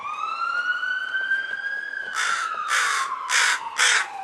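A crow caws several times in clear, harsh bursts nearby in a backyard while a siren wails steadily in the distance underneath.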